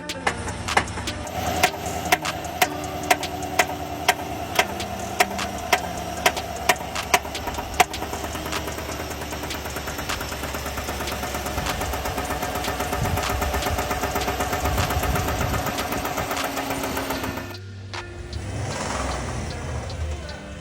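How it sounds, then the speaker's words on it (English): Engine of a 2026 GMC Yukon Denali Ultimate with severe rod knock after about 300 miles, running with a sharp, evenly spaced metallic knocking over a steady mechanical hum, the knocks fading into the drone before the sound abruptly changes near the end. "I blew up my brand new Denali with 300 miles on it. Insane rod knock."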